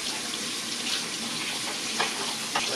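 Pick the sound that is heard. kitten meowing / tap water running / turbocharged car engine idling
tap water running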